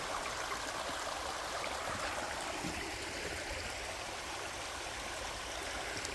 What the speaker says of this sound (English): Creek is flowing good.